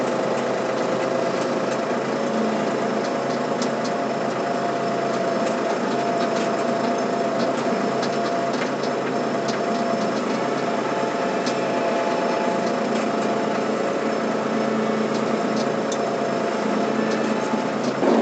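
A tractor engine drones steadily at close range, straining to pull two trailers carrying 17 tons of grain, a dense mechanical hum with no pauses or voices throughout.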